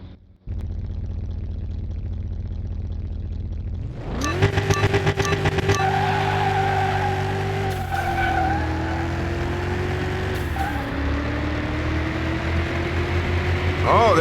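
Le Mans McLaren F1 race car in Car Mechanic Simulator 21, engine roaring up from idle into a loud sustained high-revving drone with gear shifts, steady and close throughout.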